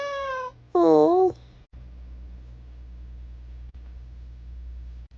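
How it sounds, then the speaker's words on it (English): Two clear, close cat meows come in quick succession, the second longer and rising, followed by a steady low background hum. "That's a good kitty."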